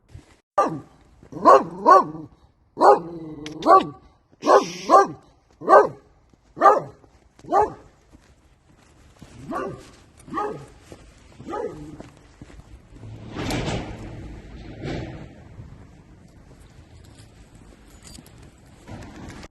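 Dogs bark sharply in a quick series of about a dozen loud, close barks along the streets of Skerton in Lancaster, followed by a quieter, noisy rustle and scuffle.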